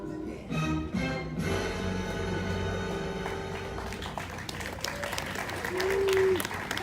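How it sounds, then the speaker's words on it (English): An audience on a cruise ship's murder mystery game show claps after tonal music cuts off, with a bright burst of scattered clapping that rises and continues under some voices. "We don't normally clap for suspected murderers"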